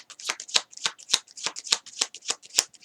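Tarot cards being shuffled for a reading, a rapid run of crisp riffling flicks and soft slaps repeating about three or four times a second, close and fairly quiet, with no talk.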